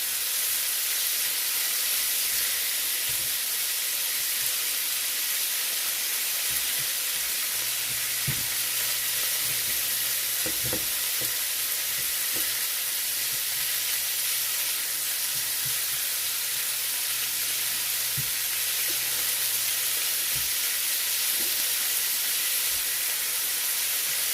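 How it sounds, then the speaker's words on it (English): Small pieces of steak sear in a hot pan with a loud, steady hiss and sizzle, punctuated by a few soft clacks and scrapes as pieces are turned, close and continuous without speech. "Let's lift it over. And get a sear on the other side."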